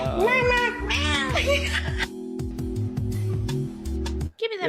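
A cat gives several wavering meows over a steady background of music and voices, with a short break near the end.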